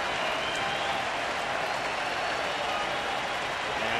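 A baseball stadium crowd at a Cleveland at Kansas City game cheers and applauds in a steady, dense roar that holds at even loudness throughout.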